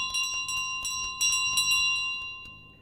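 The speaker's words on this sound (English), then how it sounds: "if I saw a goose charging me with a bell, I'd probably sidestep too" Bell carried by a charging goose in a video game, ringing in a rapid series of bright, clustered jangling strikes over about three seconds, fairly close and clear with no talk.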